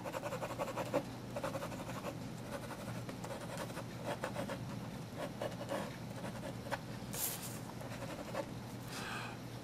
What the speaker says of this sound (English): All my pen is doing is going from left to right, just like this.